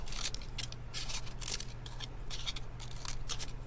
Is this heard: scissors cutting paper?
yes